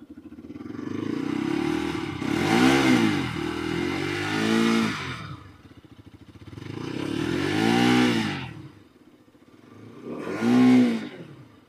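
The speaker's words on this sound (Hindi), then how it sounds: "इसको स्टार्ट करके आपको इंजन साउंड मैं आपको नोटिस करवा देता हूँ" Bajaj Pulsar RS200 motorcycle engine running close by, with three separate throttle blips that rev up and fall back to a lumpy idle between them, clear and loud with no talking.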